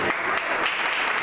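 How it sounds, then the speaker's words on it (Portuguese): A church congregation at a worship service gives a brief burst of applause that stays fairly even and moderately loud, with no speech heard. "dar uma salva de palmas para nós"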